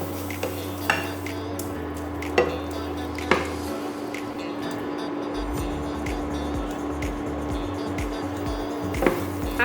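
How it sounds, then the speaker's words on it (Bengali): Carrot halwa with cashews and raisins fries in a pan, with steady low clinks and scrapes of a utensil against metal and occasional sharper taps over a soft continuous background hum. "ঢাকা খুলে এটাকে আমি আরো 2 মিনিট ফ্রাই করে নেব।"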